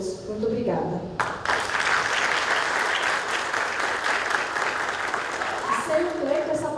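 An audience at a building-manager lecture in a hall claps loudly and steadily after a soft moment of talk, the applause swelling suddenly and holding as a dense, sustained wash until the end.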